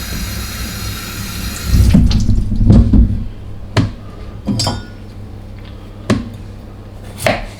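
Food for a beef and chicken stew is washed under a running kitchen tap, a close steady stream of water broken by splashes, knocks and a few glassy clinks against the sink.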